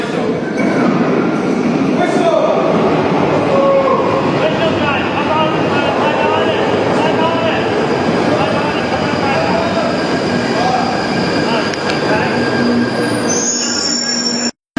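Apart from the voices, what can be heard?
London Underground Northern Line train departing Kentish Town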